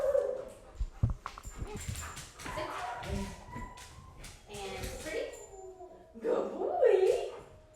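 A large shelter dog at an animal shelter yips, barks and whimpers in short bursts at close range, with intermittent tapping and some human voices mixed in.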